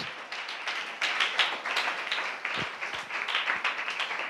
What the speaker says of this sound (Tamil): நல்ல கைத்தட்டி ஆண்டவருக்கு நாம் நன்றி சொல்லுவோம்